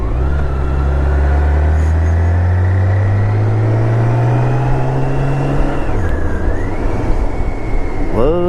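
A car's engine hums steadily while driving, with low tones rising slowly as it speeds up, then a dip and a short shift near the end, under road noise and without talk.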